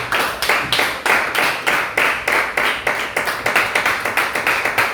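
A church congregation claps in unison, a loud, steady rhythm of sharp hand claps at a brisk pace, sometimes in quick doubled beats, during worship acclaiming the Lord.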